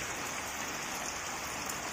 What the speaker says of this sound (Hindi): केते जोर से देख वर्षा होची